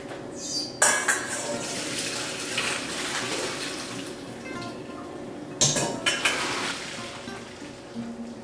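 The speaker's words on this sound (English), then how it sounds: "cooked. I'm going to strain it out." Water gushes and splashes into a sink as cooked penne pasta is strained, while metal pots clatter, with two sharper clanks as something is set down or tipped.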